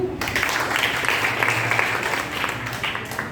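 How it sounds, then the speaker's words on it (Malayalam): A crowd of children and adults applauding at a children's selection camp, a steady, dense patter of many hands clapping for a few seconds, close and loud. "അപ്പൊ കൈയടിച്ചു"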